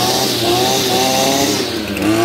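An old, restored engine runs steadily at close range, a loud continuous mechanical drone with a rough harmonic buzz and no pauses or talk.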